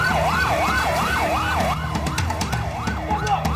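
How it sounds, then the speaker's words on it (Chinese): Police car siren wailing loudly in a repeated up-and-down sweep as the vehicle approaches, with engine rumble and some clattering noise underneath; no talking. "报告，警车来了。"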